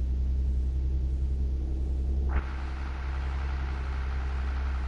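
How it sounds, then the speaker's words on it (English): Truck engine in the video game Truck Driver, a steady low idling rumble that drops abruptly to a slightly different drone partway through, heard alone without talk. "Oh, listen to that engine."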